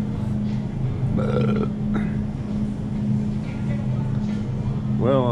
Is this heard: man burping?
yes